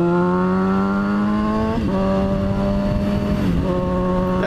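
A BMW 328 engine drones loud and close with a strong harmonic whine, its pitch dipping briefly twice as if shifting gears, with no voices.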